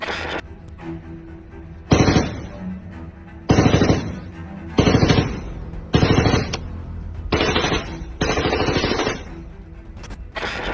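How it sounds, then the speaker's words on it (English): Loud bursts of automatic gunfire in a shootout between gunmen and police forces in a town in Veracruz, several rapid volleys separated by short pauses, close and with no speech. "a high-intensity shootout jolts the town awake"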